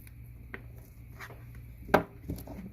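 Knife cutting small peppers on a board for a flatbread pizza, a few sparse, quiet chops with one sharper knock, close and otherwise calm.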